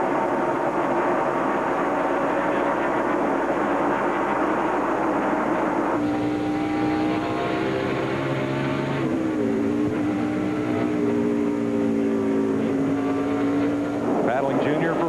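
A NASCAR stock car at the 2003 Food City 500 race revs and lifts off the throttle, its engine pitch rising and falling in clear sweeps over a constant roar of race noise.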